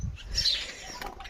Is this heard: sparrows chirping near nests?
yes